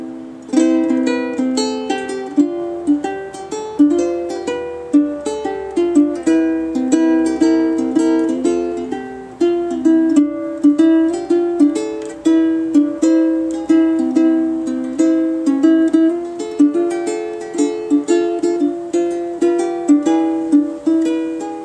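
Guitar fingerpicks an instrumental version of a song with ghost notes, a continuous flow of plucked notes and chords, close and clear with no voice over it.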